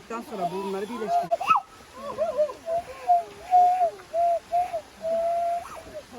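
A voice imitates bird calls with a series of short whistled and cooing notes, interspersed with soft breathy sounds, close by.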